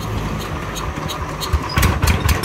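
A small used Yanmar or Kubota diesel engine runs close by with a rapid, steady knocking chug that grows slightly louder toward the end.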